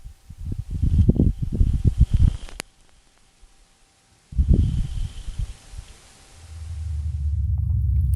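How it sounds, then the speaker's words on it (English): Audio captured by the Perseverance rover's microphones on Mars as a dust devil passes: two bursts of low, rough rumbling gusts separated by near silence, then a steadier low whoosh building at the end. "This is the actual audio of a Martian dust devil."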